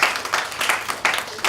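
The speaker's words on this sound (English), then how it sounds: "we give them a round of applause" Applause from the audience at a metabolomics closing ceremony, a dense steady patter of many hands clapping at mid distance that holds evenly through the moment with no voices over it.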